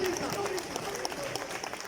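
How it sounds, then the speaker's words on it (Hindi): An audience at a community talent award ceremony in Sheikhupura applauds steadily to welcome a speaker, the clapping fairly faint and continuous behind a nearby voice. "आप सब खड़े होकर तालियों की धूम में उनका इस्तकबाल करें।"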